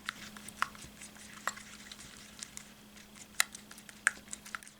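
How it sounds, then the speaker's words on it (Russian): Light clicking taps of a whisk against a bowl while face mask ingredients are beaten together, soft and irregular over a steady low hum. "Тщательно взбейте эту маску"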